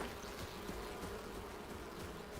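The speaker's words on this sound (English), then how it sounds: "I hear them bees." Buzzing bees in the video game Enshrouded, a steady soft insect drone running through the whole short stretch, faint and even, with no talk over it.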